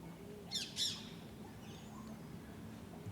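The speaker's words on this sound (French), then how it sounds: "Petits oiseaux. Perruche." A parakeet squawks twice in quick succession, two short harsh calls that stand fairly close over a low, steady background hum, with no talking.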